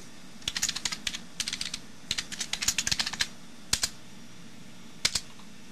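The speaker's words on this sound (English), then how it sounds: "type in your name" Computer keyboard typing on an NEC Ready 9625 PC, close and clear, in quick irregular bursts of keystrokes with short pauses, ending in a few isolated taps.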